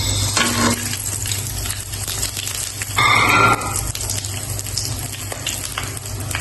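Sliced onions dropped into hot oil already spiced with cumin, cloves, cardamom, pepper, bay leaf and cinnamon for beef biryani, a steady close sizzle with a louder hiss surge partway through.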